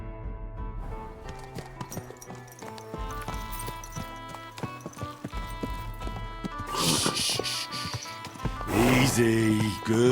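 Horse hooves clip-clopping on the road under music, with a voice speaking and a louder burst of noise near the end.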